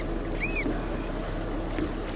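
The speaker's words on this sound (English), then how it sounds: "Boats rocking." Gentle lapping and creaking of boats on water in Hotham Sound with steady outdoor wind, and a few chirpy oystercatcher calls near the start.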